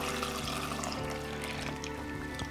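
Mixed wet ingredients with eggs pour into a well in the dry ingredients for cinnamon roll dough, a soft continuous liquid trickle over a steady low hum of room noise.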